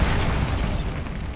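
A Bombarda spell explosion in the video game Hogwarts Legacy inside a tomb, a loud, deep rumbling blast that fills the whole moment and slowly fades.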